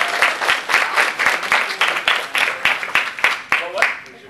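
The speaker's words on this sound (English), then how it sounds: "Everyone give him a round of applause." A convention panel audience applauds the event organizer, a burst of clapping and crowd noise with regular sharp claps and some voices mixed in, fairly close and loud throughout.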